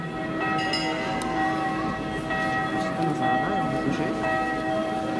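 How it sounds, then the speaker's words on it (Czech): A large church bell, the third largest in the Czech Republic, rings with a deep, sustained humming tone and layered overtones, resonating continuously close by in Hradec Králové. "Kdo to má, aby mu hrál takhle při koncertě třetí největší zvon v republice"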